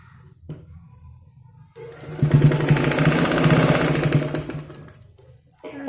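Sewing machine stitching the cross piece of a U-neck, a fast mechanical rattling run of about three seconds that starts abruptly after quiet handling, close and fairly loud, then stops.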